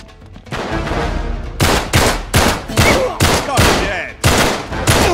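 Gunshots in Uncharted 3: Drake's Deception ring out as a loud, close series of about eight sharp cracks at an uneven rhythm over a steady background rumble.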